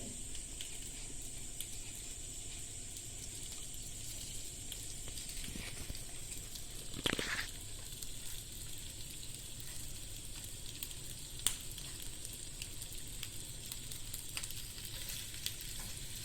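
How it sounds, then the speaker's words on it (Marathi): Semolina-coated marinated fish shallow-fries on an iron tawa with a continuous quiet sizzle. A short louder scrape or clatter comes in the middle, and no voices are heard. "त्या तव्यामध्ये आपण फ्राय करायला ठेवूया"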